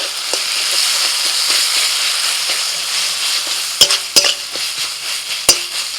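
Ginger-garlic paste sizzles steadily in hot oil over fried onions in a pan, a close continuous frying hiss broken by a few sharp clicks of a utensil near the end.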